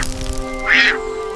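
A cartoon duck gives a single short, nasal quack amid a magical forest adventure, heard briefly over sustained background music.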